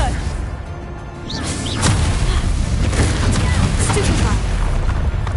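Booming spell blasts and whooshes from a Hogwarts wizarding video game, a Confringo fire spell exploding with loud crashing bursts amid continuous game noise, while a voice shouts over them.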